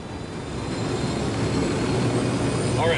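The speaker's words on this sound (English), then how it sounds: "Here's your copter." Helicopter engine in the Ghost Recon Wildlands video game, a steady close rotor and turbine drone that grows slightly louder and holds throughout, with a brief tonal in-game cue near the end.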